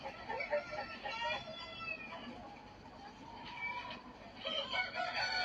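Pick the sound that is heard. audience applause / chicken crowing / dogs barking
chicken crowing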